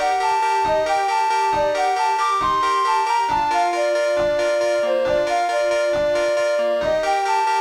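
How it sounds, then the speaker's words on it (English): Background music from a Shrek video game, a mangled rendition of the Lost Woods melody: bright, repetitive synth notes bounce over a steady pulsing beat, loud and continuous with no voices. "the next area that Shrek travels to has a new piece of background music which sounds like this"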